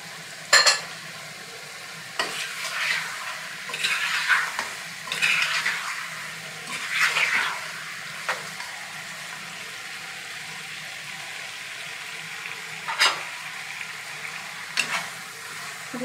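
Chicken with masala and six dried plums is stir-fried in a pot for biryani, a moderate sizzle under repeated bursts of spoon scraping and a few sharp metal clinks against the pot.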